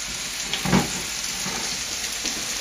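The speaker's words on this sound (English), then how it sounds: "Just going to take some olive oil, throw that in there, throw the garlic in there" Garlic sizzling in hot olive oil in a pan, a steady close frying hiss with a small burst of crackle early on, heard alone.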